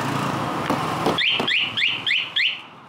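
An anti-theft alarm on a Kawasaki Ninja 300 motorcycle chirps five times in a quick, evenly spaced series of sharp rising electronic tones, loud and close after a stretch of background rumble.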